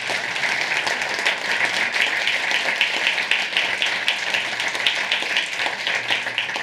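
A loud, full round of applause for panelists at a higher education panel, with an audience clapping in a dense, steady wash that continues without a break.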